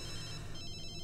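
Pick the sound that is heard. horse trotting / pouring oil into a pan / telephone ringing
telephone ringing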